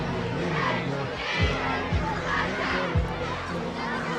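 Steady crowd murmur and cheering fill a high school football stadium during a WPIAL night game, broad and continuous with a few brief thumps and swells rising out of the hubbub.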